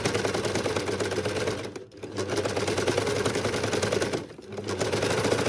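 An overlocker running fast while stitching the edge of curtain fabric, giving a dense, steady mechanical whirring rattle close by. The machine slows and dips briefly twice before picking back up to full speed.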